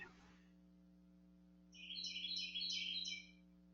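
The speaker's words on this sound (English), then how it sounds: "Shawnna, you've got some bird right outside your window." Birds singing just outside a window, a steady run of bright chirps and trills starting midway through and continuing to the end, over a constant low electrical hum in an otherwise quiet room.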